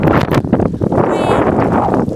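Gusty outdoor wind buffets the microphone with a loud, rumbling roar that is steady throughout the short stretch.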